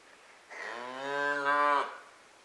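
A calf lets out a single long, loud moo of about a second and a half, a close, clear bleating call that swells and then cuts off in an otherwise quiet setting.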